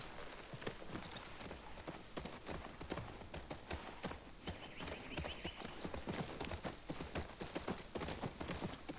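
Horse hooves clip-clop steadily at a riding pace in The Last of Us Part II, with dense, continuous rhythmic footfalls under faint ambient game sound and no voices.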